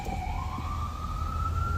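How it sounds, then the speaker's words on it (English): Ambulance siren wails loudly nearby, a single tone sliding upward and holding over low street traffic rumble. "You don't stand there and block the ambulance."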